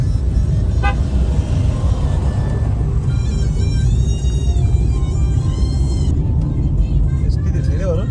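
A bus climbing a winding, green ghat road in the Konkan, engine rumble steady and loud, with short horn toots sounding near and far along the curves while someone talks over the noise.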